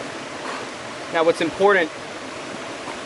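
Steady broadband rush of moving water from a river high in iron, heard nearby and continuous, with someone speaking briefly over it partway through.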